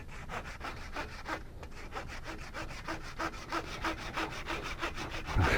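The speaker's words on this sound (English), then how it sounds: "A lot more sawing than I should be doing." Steady back-and-forth strokes of a hand saw cutting through wood, a regular rasping rhythm close by with no talking.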